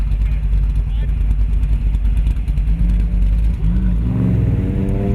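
An AC Cobra with a 425-cubic-inch 351 Windsor V8, Rodeck heads and a hot cam roars as it accelerates. The engine growls loud and sustained and rises in pitch near the end, with voices talking over it.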